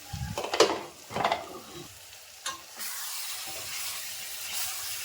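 Potol posto katla curry being stirred in a pan, with a few scraping strokes over a steady sizzle of frying that grows louder and continues to the end.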